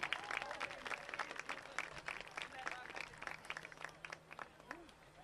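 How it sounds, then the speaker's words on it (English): Crowd at a high school football game between Rivercrest and Blytheville applauding senior cheerleaders as they leave the field, scattered outdoor clapping, fairly faint and distant, with voices and crowd murmur mixed through it. "Please give our final row of senior cheerleaders a round of applause as they exit the field"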